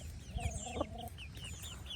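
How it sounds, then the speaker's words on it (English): A single Rhode Island Red hen clucks softly in a few short, close calls, with faint twittering birds and quiet outdoor background around her. "That's my lone Rhode Island red hen."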